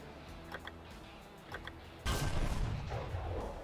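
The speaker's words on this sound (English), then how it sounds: "The MiGs are the first to launch their medium-range missiles." MiG jets launch R-27ER medium-range missiles in War Thunder: a steady jet drone with faint ticks, then a sudden loud, roaring whoosh that carries on to the end.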